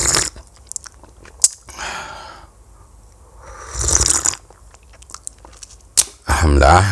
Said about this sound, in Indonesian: kita udah seruput kopinya.